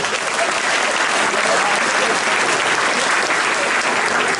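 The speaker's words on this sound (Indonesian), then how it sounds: "Kopral kepala, tepuk tangan dulu ya." Steady, loud applause from a crowd at a military battalion visit, dense clapping that holds at an even level throughout without any pause.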